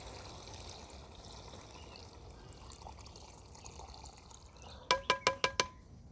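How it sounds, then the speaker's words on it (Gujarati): Water is poured into a cooking pot of bhaji, a steady, close liquid rush and trickle that runs on before a quick series of five sharp metallic taps at the end, with no talking. "હવે પાણી નાખીને ચડવા દેશું."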